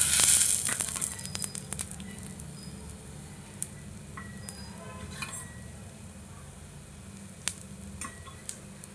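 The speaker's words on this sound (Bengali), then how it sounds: "আর বড়াগুলো খুব ভালোভাবে ভেজে নেব।" Chana dal fritters fry in oil in a pan, a soft steady sizzle with scattered crisp pops and faint clinks, louder at the start and then settling.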